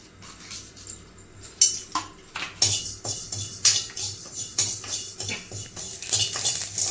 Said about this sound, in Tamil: கடுகு நல்லா பொரியும் பொரியிற சத்தம் உங்களுக்கு கேட்கும்